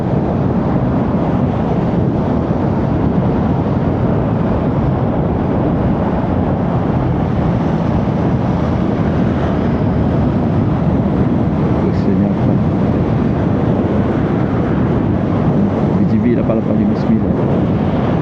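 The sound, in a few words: wind noise while riding electric motorcycle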